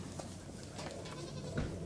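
A dairy goat lets out a short bleat near the end, over steady outdoor background noise.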